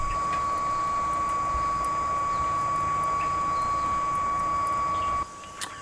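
A Biolite CampStove 2 fan keeps whirring steadily after its wood fire has burned out, a close, constant mechanical hum with a faint high whine, cutting off near the end.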